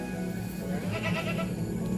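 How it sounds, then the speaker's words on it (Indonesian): Large jumbo goats bleat on a farm in Lampung, a wavering bleat rising over a steady murmur of livestock and background noise, close and moderately loud. "Ini dia kambing-kambingnya jumbo-jumbo super-super ini."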